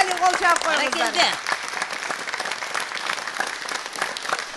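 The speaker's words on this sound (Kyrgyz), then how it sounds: "Эмали, эмали кол чаап коюңуздар." A studio audience at a Kyrgyz TV talk show bursts into applause, dense clapping that rises under the tail of a sung or spoken phrase and then carries on steadily alone.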